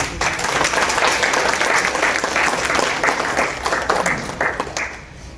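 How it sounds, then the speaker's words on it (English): Loud, sustained applause from a workshop audience at a spice value chain event, with thick, continuous clapping that holds steady before thinning slightly toward the close. "Let's have a huge round of applause for them."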